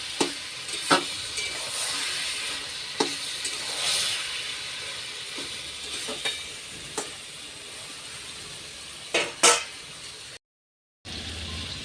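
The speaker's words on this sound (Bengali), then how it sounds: "কিছুক্ষণ পর পরই এবার কচুর শাকটা ভালো করে নাড়তে হবে" Taro leaves (kochu shak) cooking in a pan with fish head, a soft steady sizzle broken by sharp spatula scrapes and knocks against the pan at irregular intervals, ending with a short silent gap.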